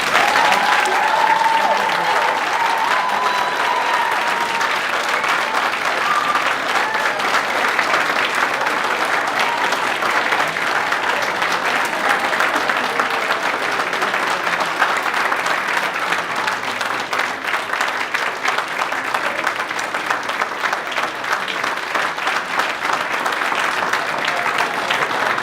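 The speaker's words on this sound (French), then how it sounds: "Maintenant, applaudissons chaleureusement nos diplômés." Long, sustained applause for graduates at a Collège Boréal graduation ceremony in Toronto, a large audience clapping steadily and evenly for over twenty seconds, with faint murmurs and a brief tone near the start.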